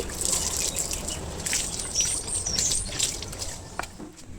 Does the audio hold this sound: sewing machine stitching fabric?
no